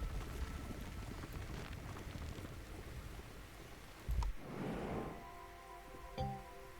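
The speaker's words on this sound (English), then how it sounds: "Into the rain we go." Steady rain patters and hisses throughout a survival video game scene, with a brief louder splash or gust burst midway and faint tonal game sounds near the end.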